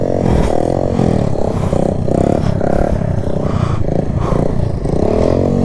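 A KTM Duke 250 motorcycle during wheelie practice: the engine roars loudly and steadily, its pitch rising and dropping repeatedly as the throttle is worked and released, with some mechanical clatter mixed in.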